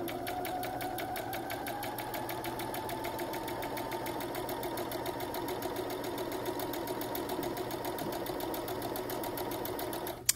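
A sewing machine stitches around two layers of fabric for a woodwind and brass instrument bell cover, giving a fast, even mechanical rattle that runs steadily and fairly quietly with no speech.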